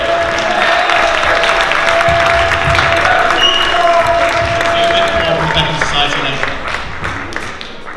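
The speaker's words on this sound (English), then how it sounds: "big hand of applause for William" An event audience at the Bussey Building in Peckham gives William a big hand, steady loud applause with some cheering and thuds, tapering slightly toward the end.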